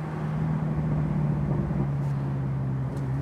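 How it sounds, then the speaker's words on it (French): A BMW M6 engine idles with a steady, low rumbling purr, continuous and fairly loud throughout. "Mais on entend quand même ronronner."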